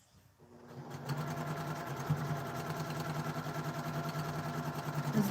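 A sewing machine stitches quilt pieces, starting up and settling into a steady, fast mechanical hum with a regular rapid needle rhythm, close and moderately quiet, with no talking.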